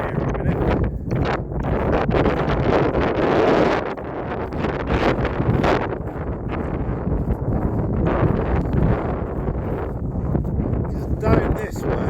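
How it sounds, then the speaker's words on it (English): Steady outdoor wind buffeting the microphone at a countryside site with earthworks and an old Roman road, a constant loud rumbling rush throughout while someone talks. "wind's getting up again"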